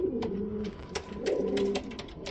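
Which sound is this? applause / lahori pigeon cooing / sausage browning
lahori pigeon cooing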